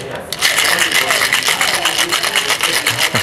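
Ice rattles inside a cocktail shaker holding fresh lemon juice, a fast, loud, rhythmic chatter that stays close and continuous throughout.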